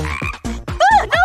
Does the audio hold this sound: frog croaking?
yes